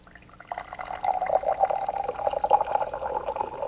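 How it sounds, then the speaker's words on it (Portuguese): Water, slightly warm, pours into a drinking glass in a chemistry demonstration, a close, continuous splashing trickle that builds after a brief start and runs steadily to the end. "Isso é para mostrar que é água mesmo, né? Esse ruído não tem a menor dúvida"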